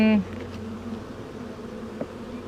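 Honey bees buzzing steadily throughout a spring inspection of a strong hive, a continuous close drone with a brief louder tone at the very start.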